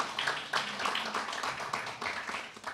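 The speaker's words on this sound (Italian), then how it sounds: "facciamo un applauso alla scrittrice" Audience at an Italian literary award ceremony claps for a novelist being honored, uneven hand claps that rise and fall, moderately close and somewhat quiet.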